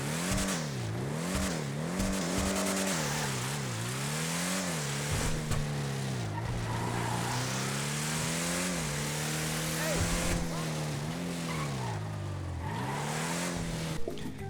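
The Declasse Draugur, an off-road car in GTA Online, has its engine revved repeatedly, rising and falling in pitch in a loud, steady rumble, while someone talks over part of it.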